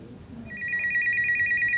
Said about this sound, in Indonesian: Oke, kita terima telepon dulu.